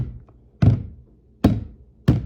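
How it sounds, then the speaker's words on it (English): A Tnec skate boot fitted with a Roces 5th Element mod and a new sole plate is thumped down, giving three heavy, dull thuds at uneven intervals with quiet between them. "it does have a much better thud."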